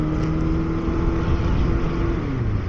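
Motorcycle fitted with an Akrapovic muffler idling and revving at low RPM, a steady, loud, close engine drone whose pitch dips slightly near the end.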